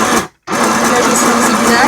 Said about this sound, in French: On va tester une première fois dans l'éponge directement.